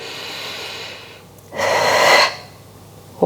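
A single deep exhaled breath during a morning strength and mobility workout, a loud, broad rushing exhale of about half a second rising out of quiet room noise, with a softer intake before it.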